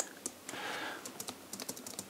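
Someone types on a Logitech wireless keyboard with light, quick key clicks in an uneven rhythm, close and quiet, plus a brief soft rustle early on.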